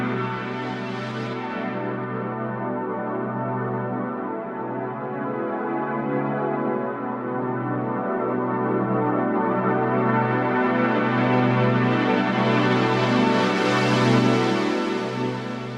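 A sustained Korg Opsix synth tone runs through a Poly 6 filter while the cutoff is swept, the brightness opening and closing slowly over a steady, pulsing low note, alone and fairly loud.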